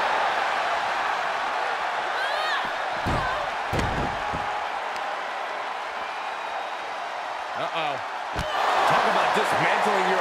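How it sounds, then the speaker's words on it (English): A raucous wrestling arena crowd roars steadily in the background of a women's triple threat tables match, with commentators talking over it and sharp slams of impacts cutting through. "What a raucous crowd here tonight."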